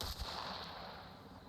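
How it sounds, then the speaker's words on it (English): A couple of faint, muffled video game gunshots thump at the start over a steady low rumble of background noise. "Yeah, gunshots."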